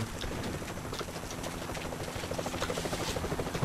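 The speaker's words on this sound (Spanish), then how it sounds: "Helicóptero." A helicopter in the Vietnam war shooter Vietcong gives a steady whirring rotor chop with broadband wash, moderately loud and growing slightly nearer toward the end.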